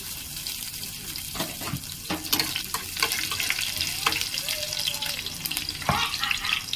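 Green chilies fry in oil in a pan with fennel seeds for paneer masala, giving a steady close sizzle broken by occasional stirring scrapes.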